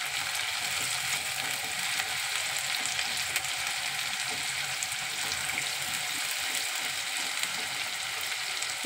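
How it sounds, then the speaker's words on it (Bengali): Onions and chicken fry in a pan for green hariyali chicken, giving a steady, close sizzle with faint scraping and clicking running evenly throughout, no talking. "এবার একটু ভাজা করে নিই, ভেজে নিই।"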